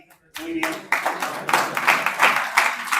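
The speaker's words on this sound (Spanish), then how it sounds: "pues un aplauso para David" A classroom group claps for a participant who has won first place, a short burst of scattered, uneven clapping that starts abruptly and carries on under a speaking voice.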